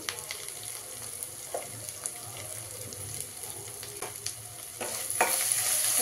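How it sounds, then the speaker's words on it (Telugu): Ginger garlic paste frying with turmeric in a pan, a steady low sizzle with scattered scrapes and taps of a spoon stirring, close and continuous, growing a little louder near the end. "అల్లం వెల్లిగడ్డ పేస్ట్ పచ్చి వాసన పోయేదాకా కొంచెం కలుపుకొని, అల్లం వెల్లిగడ్డ పేస్ట్ వేగిందండి."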